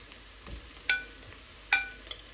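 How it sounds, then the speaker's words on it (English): Fresh green okra frying with onion in a pan over medium heat gives a soft, steady sizzle, broken by two sharp clinks of a utensil against the pan. "And now we're frying the okra"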